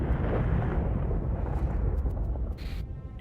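A tank blows apart in a tank video game: a heavy explosive boom opens loudly, then rolls into a long, decaying rumble, and a brief synthetic tone sounds near the end.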